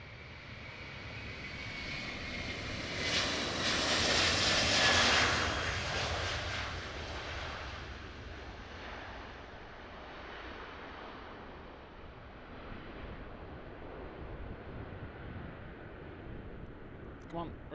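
A jet airliner takes off at Amsterdam Airport, its engine roar swelling to a broad, loud peak and then slowly fading into the distance over a steady windy outdoor hush.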